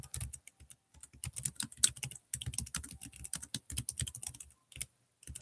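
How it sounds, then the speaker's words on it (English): Rapid irregular typing and clicking on a computer keyboard, close and clear, in uneven bursts with short pauses and no talk. "sorry if you hear me typing and clicking away"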